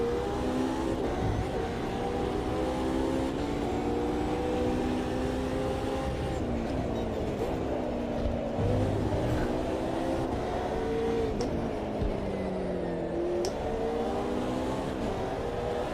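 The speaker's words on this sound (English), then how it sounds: "I can hear a car, yeah, he's still there." Race car engines in the sim racing game Automobilista 2 drone steadily throughout, their pitch rising and falling as they rev, with a nearby rival car audible beneath the player's own engine.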